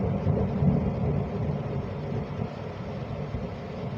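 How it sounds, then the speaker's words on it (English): Thunderstorm in the UK, a low rolling rumble of thunder with faint rain hiss, steady and fairly distant, no voices. "I just thought I'd record a little bit of it and upload it for you."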